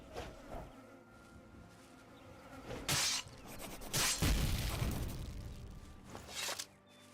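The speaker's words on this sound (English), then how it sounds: "Wasps." Giant wasps drone and buzz in the fantasy game Oblivion, a steady insect hum broken by a few sharp, louder bursts of combat noise.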